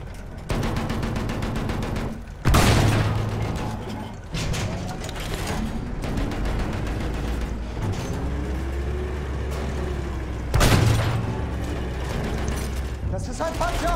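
St Chamond tank in a Battlefield 1 battle on the Amiens map: low engine rumble and clanking mechanism run throughout, with two loud heavy cannon blasts standing out above a busy mix of distant gunfire.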